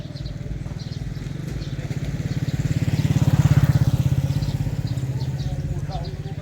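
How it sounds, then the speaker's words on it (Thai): A motorcycle engine fires up and runs at a close, steady rhythmic putter, swelling louder in the middle before easing back, with voices talking over it. "ลองติดเครื่องดูก่อนมันยังติดอยู่เปล่า"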